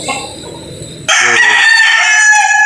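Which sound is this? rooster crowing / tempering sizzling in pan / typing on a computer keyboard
rooster crowing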